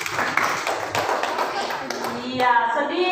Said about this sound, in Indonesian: Tepuk tangan dulu untuk Tiara